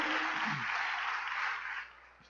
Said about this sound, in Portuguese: Aplauda Jesus Cristo, Senhor.